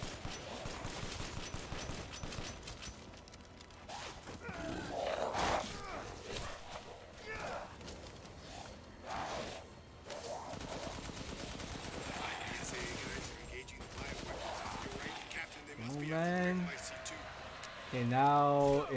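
Gunfire rings out in Resident Evil Village, with scattered shots and bursts mixed with footsteps and game noise, while a person talks over the action.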